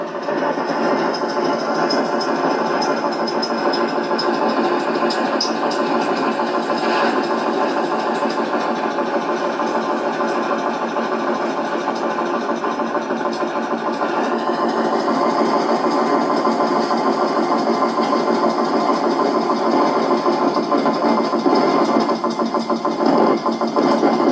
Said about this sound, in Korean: 뭔가 기계 소리인데 뭔가 이게 콤프렉서 같은 이런 소리가 아닌가